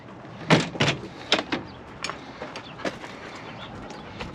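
Ambulance rear sliding door being moved, a few sharp knocks and rattles of the mechanism in quick succession, fairly close, then smaller clicks tapering off with no talking.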